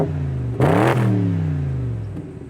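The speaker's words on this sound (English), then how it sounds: "It gives you all the power you need, which I can actually throw an exhaust clip in here right now." A BMW 650Ci's exhaust blips sharply once: a loud rev rising quickly, then falling back to a deep, rumbling idle, close by and alone.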